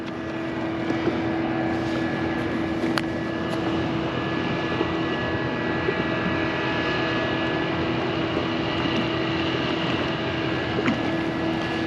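Trucks aboard a vessel pump something out while the ship passes close by, a steady low mechanical drone with a constant tonal hum running unbroken throughout, no talk on top.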